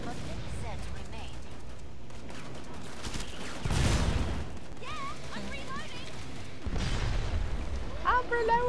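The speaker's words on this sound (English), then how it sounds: "Glorious explosions!" Muffled blasts and bursts of gunfire boom at intervals from the game Killing Floor 2, mixed with whistling effects and a low rumble.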